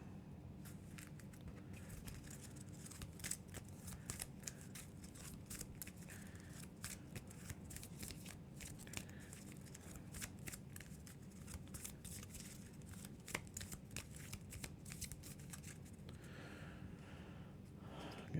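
Playing cards being shuffled for the Earthborne Rangers board game, a long stretch of rapid riffling and flicking snaps, steady and fairly close, with no talking over it.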